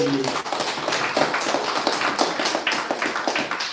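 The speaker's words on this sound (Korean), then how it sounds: "감사하는 마음으로 박수로" A church congregation claps together at a brisk, steady rhythm for a few seconds, moderately close, with some murmuring voices underneath.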